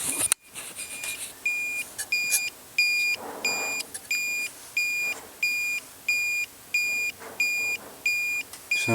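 A Blinker Bird electronic kit from Lectrify emits a steady series of short, sharp electronic beeps at a regular pace, about a dozen in a row, with faint background rustling.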